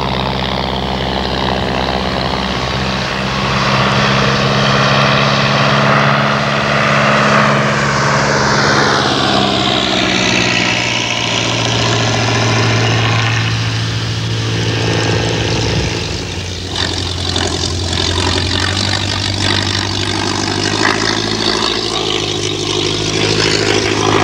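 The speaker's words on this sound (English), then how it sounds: "The first monoplane trainer to be ordered by the RAF was the Miles Magister." A mid-1930s Miles Magister, an all-wooden RAF monoplane trainer, drones loudly and steadily throughout with its engine and propeller, and its pitch shifts partway through as it passes close by.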